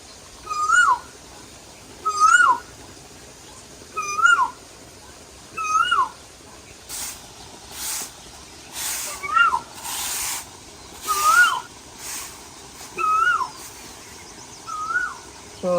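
A koel calls over and over in a village setting during the morning, with about ten clear, evenly spaced calls at a steady rhythm and some brief hissing noise in the middle stretch.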